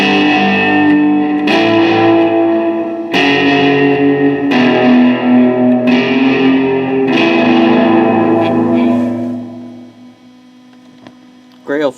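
An Electro-Harmonix Cathedral Reverb pedal on its Echo preset, with a series of sustained guitar chords struck roughly every one and a half seconds, each washing into long, shimmering repeats that overlap and then fade into a faint tail.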